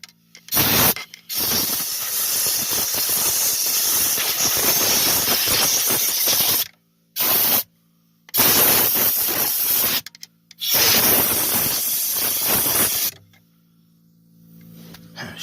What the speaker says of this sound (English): Got the compressed air out and clean her up.